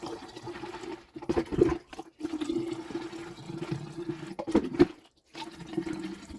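Water streaming steadily out through a hole punched in a plastic bottle, a continuous close trickling and splashing flow with brief pauses and no talk.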